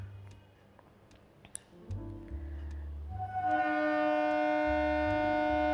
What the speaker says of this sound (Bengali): পৌঁছে গেলাম হাওড়া স্টেশন।